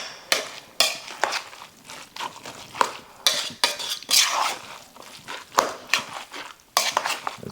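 Walnut raisin slaw gets stirred and mixed in a bowl, a steady run of scraping, clinking strokes of a utensil against the dish, fairly close and repeated in uneven bursts with no talking.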